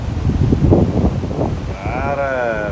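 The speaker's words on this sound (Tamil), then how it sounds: "காற்று எங்களை தள்ளுது" Strong wind at a beach in Penang, Malaysia rumbles and buffets the microphone in loud, steady low gusts, with voices talking over it and a brief higher tone near the end.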